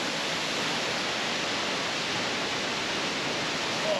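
The King George Falls waterfall roars as a steady, dense broadband rush that fills the whole stretch with no break, close and loud, with no voices over it.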